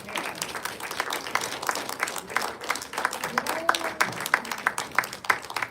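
An audience claps to welcome a speaker to the stage, with steady, moderately loud clapping from many hands, a voice speaking faintly over it.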